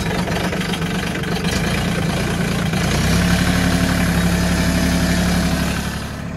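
A Mahindra tractor's diesel engine turns over and settles into a steady idle, a loud, continuous rumble close by that holds an even note to the end, with no voices.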